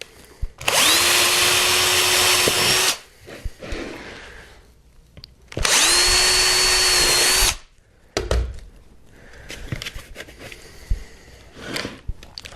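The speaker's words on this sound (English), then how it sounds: "make sure you're not going to obstruct anything when you drill through the other side." A power drill bores holes through a helmet in two loud bursts of about two seconds each, with quieter handling knocks and shuffling between and after them.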